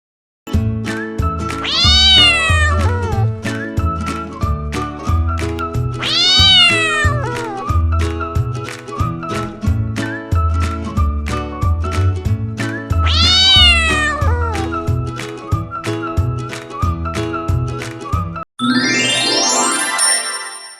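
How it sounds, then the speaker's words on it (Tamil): Repeated drawn-out cat meows over a busy musical backing with chimes, ending in a short rising tinkle. "பூனை கத்தும். பூனை கத்தும்."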